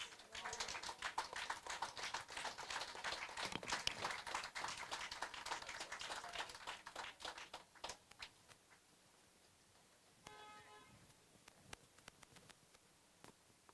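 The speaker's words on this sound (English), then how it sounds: "Miss Hanley another round of applause?" An audience claps for a poet at an outdoor poetry event in a town square during a Nevis Culturama festival, with dense, loud applause for about eight seconds that thins into scattered claps and fades to quiet.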